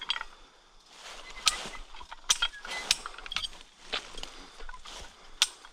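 A hand-cranked come-along ratchet tightens barbed wire in the woods, giving irregular metallic clicks and creaks in short bursts, fairly close and moderately loud, with no talk.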